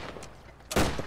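A short, loud burst of gunfire erupts near the end, after a quieter stretch of background noise. It comes from a machine gun in a World War II video game set during the Dieppe Raid.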